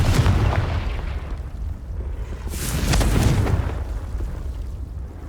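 A Confringo blasting spell detonates in Hogwarts Legacy, a whooshing burst swelling into a broad rumbling explosion midway, over steady background noise with no talk.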